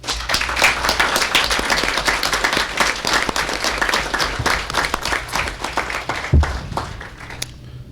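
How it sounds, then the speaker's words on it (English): Loud, dense applause from a room full of people at a board meeting, steady clapping that carries on for several seconds before tapering off. "A round of applause."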